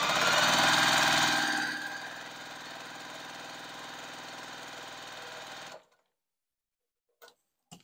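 A Juki sewing machine runs fast while stitching a log cabin quilt top, a loud, even, rapid whir that holds for several seconds and then stops dead, followed by a couple of faint clicks.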